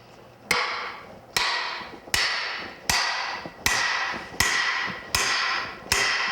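Eight sharp, ringing hammer blows driving wagon wheel spoke tenons into a wooden hub, at a steady, unhurried pace, each strike crisp and close with a short resonant decay.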